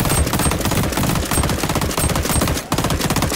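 Loud, sustained automatic gunfire from a gun in a shooter video game, a rapid continuous stream of shots with a brief break near the end, dense and close, no talking.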